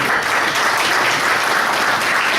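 Sustained applause of thanks from a seated audience at a Turkish economic solidarity association meeting, a steady, even roar of many hands clapping at once, close and loud throughout.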